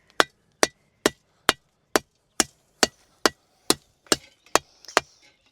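Hammer striking concrete blocks in a garden build, eleven sharp evenly spaced blows at a steady rhythm, loud and close, each crack fading quickly with no talk between.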